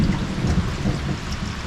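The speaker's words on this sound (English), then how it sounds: "Thunder." Low rolling thunder rumbles steadily, with rain hissing faintly in the background.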